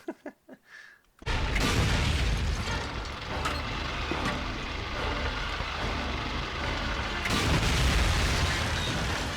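Heavy, continuous explosions and booming blasts roar nearly nonstop from the Call of Duty: Finest Hour video game as Panzer tanks are destroyed, rising abruptly after a brief quiet opening and staying loud and dense throughout.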